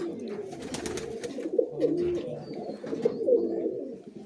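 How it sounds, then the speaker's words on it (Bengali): Allahabadi giribaz pigeons coo in a home loft, several birds layering low gurgling calls into a continuous rolling hum with a few sharper accented notes, close and steady throughout. "এগুলো সব এলাহাবাদি পায়রা"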